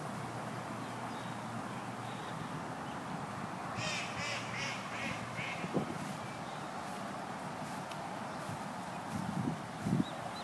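A duck quacks in a series of short calls at a moderate distance in a park garden during a picnic, heard over steady outdoor background noise with occasional nearby bumps.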